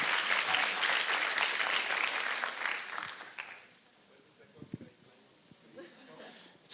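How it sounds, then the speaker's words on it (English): An audience at an academic symposium applauds, with close, lively clapping that lasts about three seconds, fades out, and leaves faint room noise and a few scattered sounds. "Big applause."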